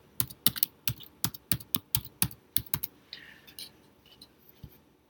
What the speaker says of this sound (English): If I knew how to type with more than 2 fingers, I'd be better at this.